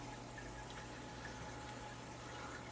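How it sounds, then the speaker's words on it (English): A small battery-operated air pump bubbles oxygen into aquarium water with a faint, steady fizzing hiss and low hum. "went and bought this little battery-operated oxygen pump or air pump to throw some oxygen in there while I was treating"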